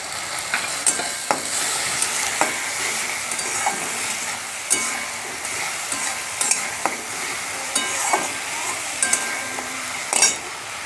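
Spices and tomato paste sizzle and fry for a fish head curry, with a steady close hiss broken by frequent scraping stirs and small clinks of a spoon against the pan.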